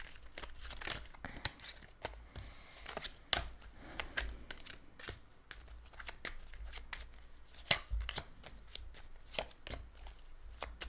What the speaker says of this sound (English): Allow me just to lay out the cards here.